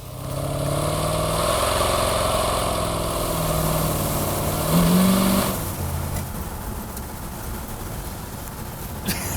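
A dream car's engine rumbles at a steady idle, loud and close, with a deep throaty tone, then drops to a quieter, rougher drone partway through.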